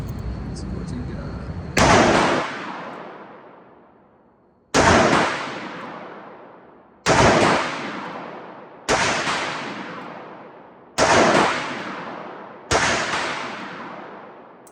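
A 1980 Ruger Blackhawk revolver chambered in .30 Carbine fires six loud, sharp shots outdoors, each with a ringing decay, evenly spaced about two to three seconds apart.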